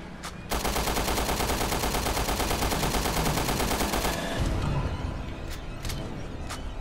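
Rapid automatic gunfire in Resident Evil Revelations 2, a dense sustained burst lasting about four seconds, followed by a few separate single shots.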